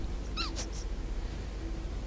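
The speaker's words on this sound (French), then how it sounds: "c'était le chat" A cat gives a short, faint meow, a brief rising and falling cry heard once over a low background hum.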